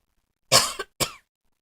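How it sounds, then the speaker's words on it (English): Two close, sharp coughs come from one person indoors. The first is louder and breaks in two, and a shorter one follows after a brief pause, with silence around them. "I need to cough."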